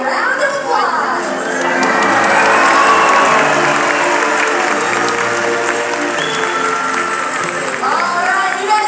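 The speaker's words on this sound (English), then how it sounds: "let's give him a nice big round of applause." Crowd at a SeaWorld orca show bursting into applause and cheering, with children shouting among a large stadium audience, loud and sustained, while an amplified voice talks over it.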